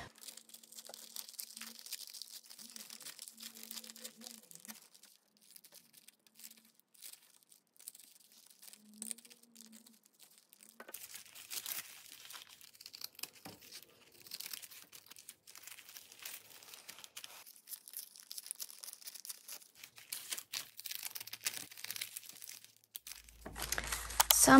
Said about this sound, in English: This one I will tear.